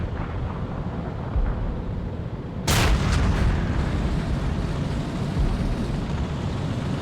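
A Panzer III Ausf. M tank gun firing a high-explosive shell in a video game set at Kursk in July 1943, one sudden heavy boom midway that rolls off into a long rumbling echo over a constant engine drone.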